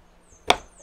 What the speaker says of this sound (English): to peel ginger, I'm just gonna break a knob off first